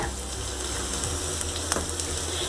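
Onion and capsicum sautéing in a pan for chilli idli, a steady soft sizzle and fry with faint stirring clicks, heard alone at low volume.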